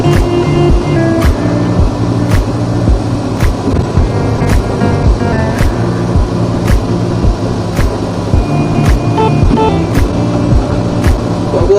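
EMG 40 mini excavator running steadily with its levers being worked, a loud continuous engine drone with regular sharp clanks repeating roughly every second throughout.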